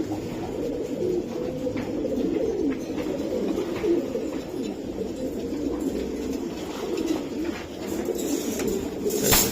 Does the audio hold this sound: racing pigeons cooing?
yes